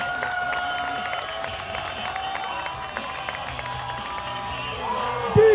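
Stadium crowd at a World Shot Put Series meet cheering and clapping for thrower Roger Steen, a sustained roar with scattered claps and whistles under commentary, ending in a brief loud thump.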